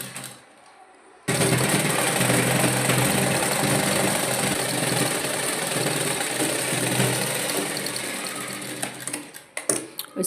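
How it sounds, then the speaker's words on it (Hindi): An electric sewing machine stitches fabric for a six-month-old girl's fancy dress. After a short quiet start it runs in a loud, continuous mechanical whir for several seconds, then slows and stops with a few clicks near the end. "इस तरीके से रखना है, इस पर सिलाई चला देनी है।"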